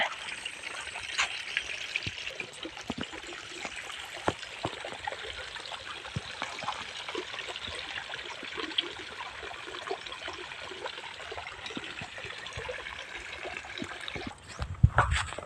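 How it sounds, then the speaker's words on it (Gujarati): A small water stream made for cattle to drink from in the Charotar area, flowing with a continuous soft trickling and splashing, steady and moderately close, with no talk. "પશુઓને પીવા માટે પાણીનું નાનકડું એવું ઝરણું તમે જોઈ શકો છો કેટલું સરસ વહી રહ્યું છે"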